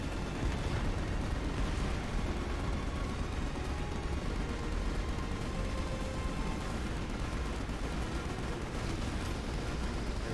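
Gunfire in Final Fantasy XV: Episode Prompto sounds as a dense, steady roar of shots and blasts that never lets up, loud and close.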